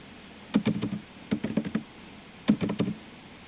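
Keys tapped in three short bursts of four or five quick strokes each, typing text into a Google Docs document, moderately close with quiet gaps between bursts.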